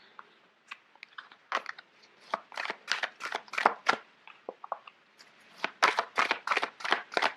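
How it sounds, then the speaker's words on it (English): Papery riffling and flapping of large playing cards being shuffled, in uneven bursts of quick crisp snaps, close by with no speech. "It's hard to shuffle."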